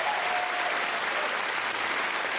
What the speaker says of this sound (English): Give this person a clap for coming on their own.